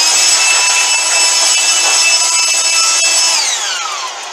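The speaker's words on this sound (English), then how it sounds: "the Ryobi blower. It's an inflator." Ryobi battery inflator used as a shop blower runs steadily in a workshop, a loud high-pitched whine with tonal harmonics that holds constant and then winds down in pitch near the end, with no talking.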